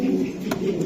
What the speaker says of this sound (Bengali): হ্যাঁ মাদি কবুতর দাদা